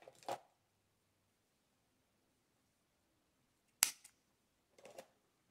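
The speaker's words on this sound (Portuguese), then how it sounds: "Vou cortar." Scissors snip through crochet yarn while finishing a rug, giving one crisp cut near the start and two more sharp snips a few seconds later, close and distinct against near silence.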